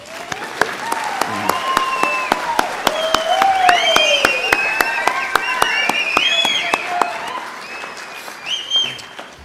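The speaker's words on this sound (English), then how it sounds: "You can go ahead and clap." A graduation ceremony audience claps for the rising class of 2025: sustained, loud crowd applause with bright whoops and whistles rising above it and a few sharp, evenly spaced claps cutting through.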